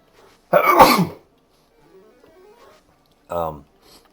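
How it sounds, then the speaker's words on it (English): A single loud, sharp sneeze bursts out near the mic, followed by quiet breathing and a short vocal sound a few seconds later. "Headphone warning there. Had a sneeze."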